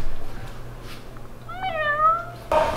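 A cat gives a single drawn-out meow that bends downward, clear against quiet indoor background, followed by a brief burst of noise at the end.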